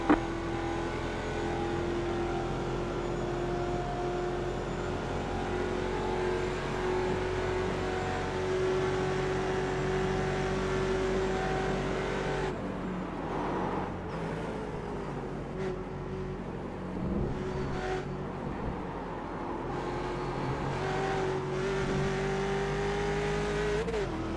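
Loud race car engines in a video game roar and rev continuously, with pitch rising and falling as cars accelerate and shift.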